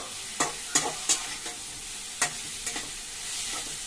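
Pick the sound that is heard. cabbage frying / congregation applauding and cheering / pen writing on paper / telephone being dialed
cabbage frying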